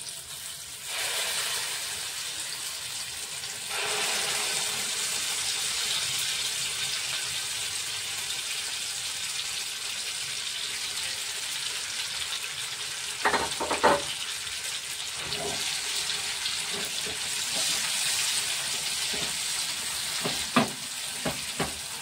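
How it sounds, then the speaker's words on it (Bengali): Chana dal paste frying in hot ghee, a steady close hiss of sizzling that swells as the paste goes in, with a few sharp spoon clinks and stirring scrapes near the end. "গরম হয়ে গেছে, আমি এই ডাল বাটাটা মধ্যে দিয়ে দিলাম।"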